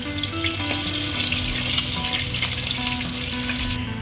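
Koi fish fry in hot oil with a steady, loud, crackling sizzle and occasional pops and spatters, no voices.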